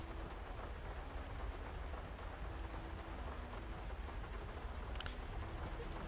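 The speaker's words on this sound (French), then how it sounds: "Oh, il pleut." Steady rain pours in a video game, a dense even hiss holding throughout with faint distant rumble beneath and no voices over it.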